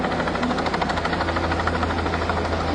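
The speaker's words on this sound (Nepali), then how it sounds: "हेलिकप्टर आएर उद्धार गर्दैछ" A rescue helicopter hovers over a flood in Rasuwa, Nepal. It makes a loud, steady, throbbing rotor and engine roar that fills the whole moment, with no talking.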